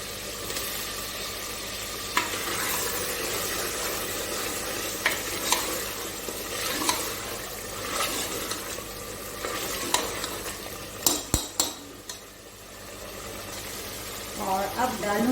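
Potatoes are stirred into aloo gosht curry over high heat, frying with a constant sizzle and occasional scraping clatters of a spoon against the pot while someone talks throughout.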